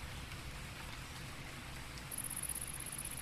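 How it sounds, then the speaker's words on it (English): Rain effect in a video game, a steady soft wash of falling rain with a faint high whistling tone entering near the end, no talk. "Really good rain effect."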